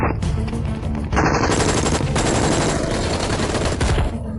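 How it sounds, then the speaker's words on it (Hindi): Heavy sustained gunfire in an action film fight scene, dense bursts of machine-gun fire crackling continuously and loudly throughout, with no speech. "देखो वहाँ कितनी जोरदार फायरिंग हो रही है।"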